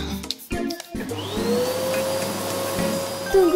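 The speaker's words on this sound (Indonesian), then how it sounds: "Apa itu hiu dengan penyedot debu?" A vacuum cleaner whirs loudly and steadily close by, its motor tone rising after a few brief stops and starts at the beginning.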